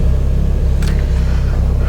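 A Mitsubishi Evo X turbo engine running E85 fuel on a dyno, with a Borg Warner 9174 turbo, holds a steady, loud low rumble with a rhythmic pulse throughout and a brief high hiss partway through.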